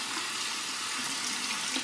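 Warm tap water running steadily into a sink as a Simpsons Trafalgar T3 synthetic shaving brush is rinsed under it, a close, continuous hiss with slight splashing.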